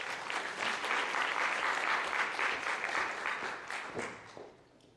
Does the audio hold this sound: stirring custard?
no